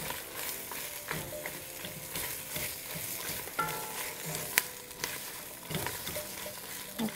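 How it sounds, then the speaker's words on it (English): Dried chile pods sizzle and fry in a hot pan for a Mexican barbacoa sauce, a steady crackling hiss with scattered pops and stirring clinks, close and continuous with no talk. "we're going to begin to add our chile pods. This is going to be fast, so give it about 30 seconds"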